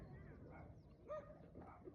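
Dog barking on command, giving a few short yips and barks with light whimpering, faint and fairly close, mixed with soft talk from a person.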